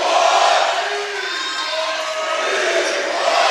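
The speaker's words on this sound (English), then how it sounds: "And there's that crowd." Crowd cheering at a girls' varsity high school basketball game, a loud sustained roar of shouting and whooping from many voices in a gym.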